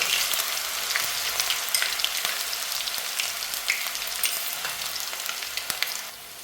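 Crushed ginger and garlic fry hard in hot oil, crackling and spitting with dense, close popping, while occasional stirring scrapes run under the sizzle until it eases slightly at the end.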